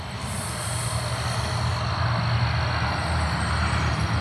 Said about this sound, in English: Before these cars go by.